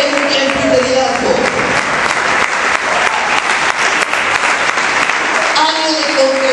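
A church congregation claps steadily and loudly during a sermon, a dense continuous wash of applause that swells through the middle and sounds close.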